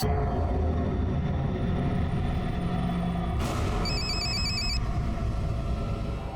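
A telephone rings with a steady electronic trill over a loud, constant rumbling background, starting partway through and stopping after about a second.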